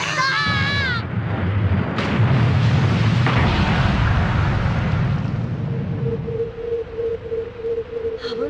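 An explosion in the PlayStation game Super Adventure MegaMan gives a loud, rumbling, sustained blast that follows brief electronic warbling tones and fades into a steady electronic hum.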